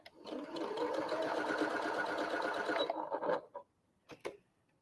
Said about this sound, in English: we're going to sew right along that edge, down the center, 1/4 inch.